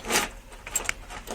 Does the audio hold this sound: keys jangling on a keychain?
yes